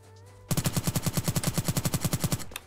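A rapid burst of automatic gunfire in the video game Apocalypse Rising 2, about twenty evenly spaced shots over two seconds, loud and close with no talk.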